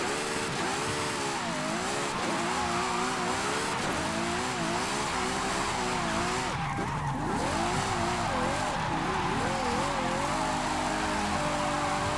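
Ferrari J50 driven in the racing game Forza Horizon 5, its engine revving continuously with tires squealing through skids, loud and steady the whole way with no talk.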